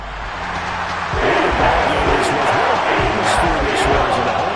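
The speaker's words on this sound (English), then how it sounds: "the home crowd applauding" A home crowd at a football game applauds and cheers in a large venue. The noise swells after the first second into a loud, continuous roar, with voices talking over it.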